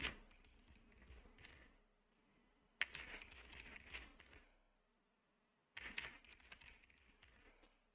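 A password being typed on a computer keyboard that sometimes registers double clicks: close, quiet key taps in three bursts separated by short pauses, with no talking.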